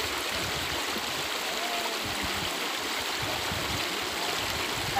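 A river stream flowing in a steady, dense rush of water, close and continuous with no pauses or voices.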